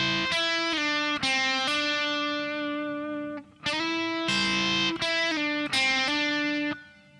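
Electric guitar plays a solo lick slowed down, with distorted sustained notes, hammer-ons and bends in three repeated phrases, loud and close with no talk.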